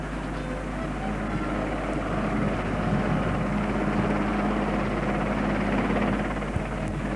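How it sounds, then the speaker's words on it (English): An RAF helicopter carrying the Ashridge House spire produces a loud, unbroken rotor and engine roar that stays steady and close throughout. "As the helicopter approaches the dropping zone"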